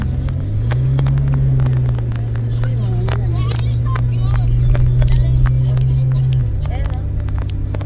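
A vehicle rumbles steadily across sand dunes, its low engine drone holding loud and close for several seconds, with people chattering and talking over it throughout.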